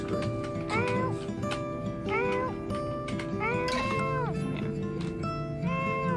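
Cats meow repeatedly in the video game Cats Cradle, rising and falling cries over a steady game music bed with light ticking, a soft voice faintly mixed in.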